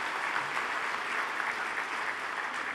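Large audience at a university convocation ceremony applauds in a steady, dense wash of clapping, continuous and even in loudness, heard in a big hall without talk.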